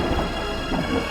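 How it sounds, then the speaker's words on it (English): Rain and a low thunder rumble fill a short stretch of an audio drama, a steady downpour with the rolling boom swelling briefly and no one speaking. "Do you expect me to stay out here in the rain?"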